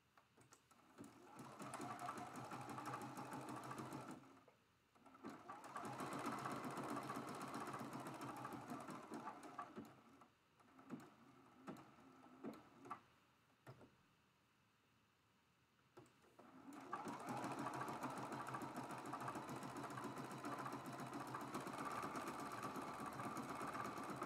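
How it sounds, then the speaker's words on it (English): A sewing machine stitches sideways along a quilt border in quiet, steady whirring bursts that stop briefly and resume, close by with no talk. "I'm going to do a sideways stitch."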